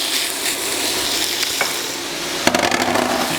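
About five slices of bacon fry in a hot pan, giving a steady dense sizzle with light crackling and a few clinks near the end.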